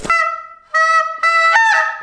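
Snow geese honk loudly and close during a hunt, with several nasal calls in quick succession, separated by brief pauses and overlapping toward the end.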